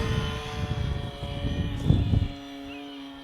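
A Durafly Tundra RC model plane flies overhead, a droning electric propeller whine with steady tones, swelling briefly then fading out as it passes.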